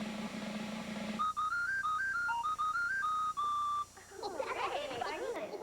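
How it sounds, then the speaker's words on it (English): A captain's whistle plays a short tune of clear, bright, shifting notes for about two and a half seconds, loud and close. Speech comes before it and busy chatter follows. "It's a captain's whistle."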